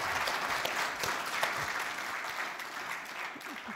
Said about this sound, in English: Can we give him a big clap?